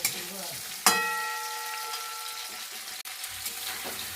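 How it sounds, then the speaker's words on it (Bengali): Ginger and onion fried and stirred in a pan with potato and cauliflower, a close steady sizzle opening with a sharp metallic clang that rings briefly, followed by quieter stirring and a soft low rumble near the end. "আদাটা দিয়ে নাড়াচাড়া করে পেঁয়াজটা দিয়ে দেবো"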